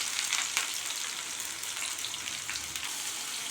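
Chopped onions with masala spices frying in oil in a kadai, a moderate continuous sizzle with soft crackles and faint stirring movements.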